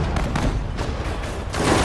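Dense, continuous battlefield gunfire from the WWII strategy game Sudden Strike 4, in a 1940 battle near Lille during the Dunkirk campaign, with overlapping rifle and machine-gun bursts under a steady rumble.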